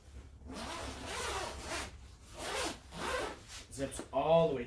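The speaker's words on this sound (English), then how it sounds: "Zips all the way down to the bottom," A zipper on a canvas ice-shelter bag drawn open in several rasping strokes, close and fairly quiet, the pulls growing quicker and sharper toward the end.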